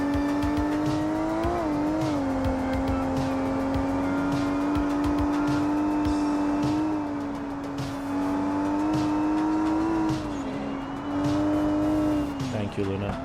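GT-250 race cars at Lakeside circuit give off a sustained, high engine whine that rises and falls as they pass and shift gear, loud and close throughout, with people talking over the engine noise.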